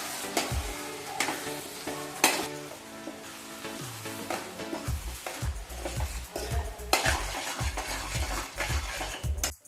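A spice mix with garam masala stirred in a pan over a low flame: repeated scraping and clinking of a spoon against metal over a soft background sizzle, irregular strokes close by, no voices.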